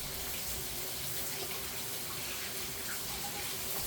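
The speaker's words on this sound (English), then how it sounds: "Let me wash my hands." Hands washed under a running kitchen tap, a steady close broadband gush of water that stays even and continuous throughout, with no talking.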